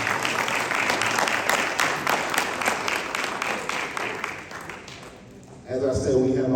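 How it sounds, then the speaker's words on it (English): An audience at a political forum gives a round of applause, steady clapping for about five seconds that fades out, followed by a voice starting to speak. "So once again, we give these brothers a round of applause."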